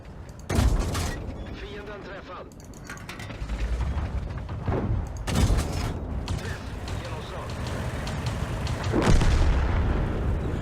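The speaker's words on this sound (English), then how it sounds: "Just a bunch of Swedish tanks shooting at each other" Swedish tanks trade cannon fire in World of Tanks, a few heavy booming shots spaced several seconds apart over constant rumbling engine and mechanical clatter, with faint speech underneath.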